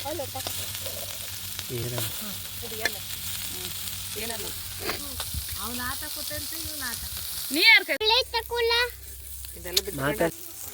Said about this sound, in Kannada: ಇದು ಬಿಸಿ ಬಿಸಿ ತೋರಿ ಫ್ರೈ ರೆಡಿ ಆಗ್ತದೆ.